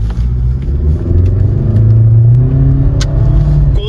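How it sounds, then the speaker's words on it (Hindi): MG Hector SUV engine revving in sports mode while attempting a wheel spin: steady close engine drone rising in pitch, loud and continuous, with no talk over it. "कोशिश पूरी करती है व्हील स्पिन करने की, कोशिश पूरी है गाड़ी में बट व्हील स्पिन करती नहीं है"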